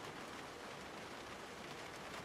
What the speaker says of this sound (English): Nice little rain sound off of the roofs.